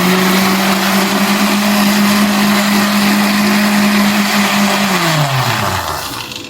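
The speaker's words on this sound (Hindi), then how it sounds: "ब्लेंड कर लेंगे।" A kitchen blender whirs loudly and steadily, blending a grape drink with lemon juice, black salt and 7 Up, then its motor pitch drops as it winds down at the end.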